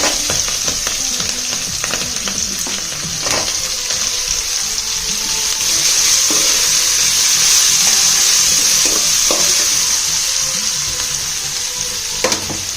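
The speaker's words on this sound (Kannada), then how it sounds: "ಹಸಿಮೆಣಸಿನ್ಕಾಯಿ ಕರಿಬೇವಿನ ಸೊಪ್ಪು ಈರುಳ್ಳಿ ಹಾಕುತ್ತಾ ಇದ್ದೀನಿ" Green chilies, curry leaves and onion fry in a pan for a raw mango chitranna, a loud, continuous close sizzle with frequent scraping stirs and small crackling pops.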